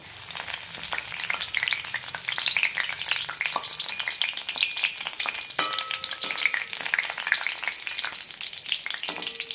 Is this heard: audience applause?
no